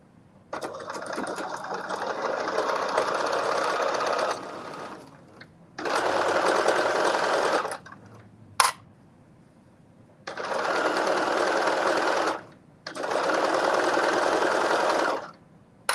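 Home sewing machine stitching in steady bursts, four long runs separated by short pauses and a sharp click between them, close and fairly loud with no talking.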